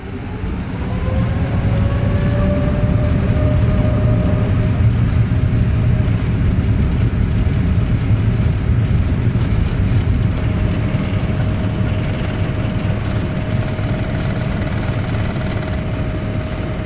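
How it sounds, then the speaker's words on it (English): Steady cabin noise aboard an Air Canada Boeing 787 during taxi and takeoff: a loud, continuous engine roar with a rising whine that settles into a sustained tone, unbroken throughout and without talk. "here's some taxi and takeoff footage."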